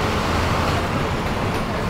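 An MSRTC state transport bus on the move from Borivali toward Thane, giving a steady, loud road rumble and engine drone throughout with no voices.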